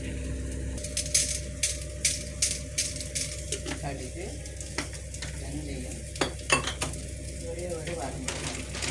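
Curry leaves drop into hot tempering oil for rasam, giving a steady close sizzle with sharp clinks and scrapes of a utensil stirring in the pan.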